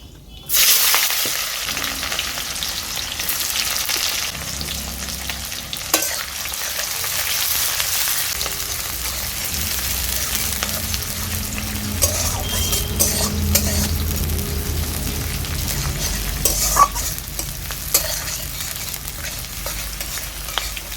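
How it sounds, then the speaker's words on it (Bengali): Chopped onion fries in a pan with dried red chillies and whole spices, a sharp burst of sizzle giving way to a steady hiss broken by scraping stirs and spatula clinks throughout. "পেঁয়াজ কুচিটাকে আমি হালকা নেড়ে চেড়ে নিচ্ছি।"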